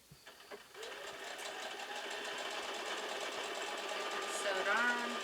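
A sewing machine stitching quilt blocks together starts after a few light knocks and runs as a steady, close mechanical hum that builds slightly toward the end.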